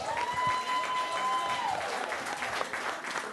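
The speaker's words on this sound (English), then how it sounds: "Please show some love for the very funny Lyall Behrens" A comedy club audience in Monterey applauds and cheers as a comedian comes to the stage, a steady wash of clapping with a brief whistle over it.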